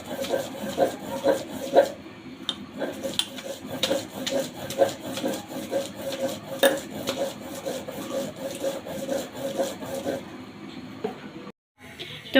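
Mankochu taro being ground into a paste, likely on a stone slab, with steady rhythmic rubbing and rasping strokes repeating close by for most of the stretch, then a brief pause near the end.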